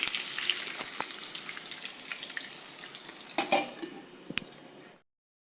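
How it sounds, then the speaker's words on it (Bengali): Eggplant sizzles gently in a pan, fading gradually, with a few sharp utensil clinks and pan knocks near the end before it stops. "বেগুনগুলোও নরম করে ভাজা হয়ে গেছে দেখুন,"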